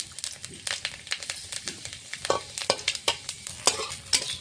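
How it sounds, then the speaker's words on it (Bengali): Dried red chilies and panch phoron sizzle in mustard oil in a kadai, with steady frying hiss and a string of sharp crackles and pops throughout, spaced irregularly and at moderate loudness with no voice. "ফোড়নের জন্য আমি কড়াতে দিয়ে দেবো সর্ষের তেল ফোড়নের মধ্যে দিয়ে দেবো শুকনো লঙ্কা পাঁচ ফোড়ন"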